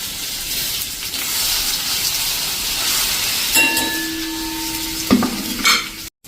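Ginger-garlic paste with a pinch of asafoetida and turmeric dropped into hot oil, giving a steady, close sizzle and hiss, with a brief tonal whine midway and a couple of sharp clatters near the end; no one speaks.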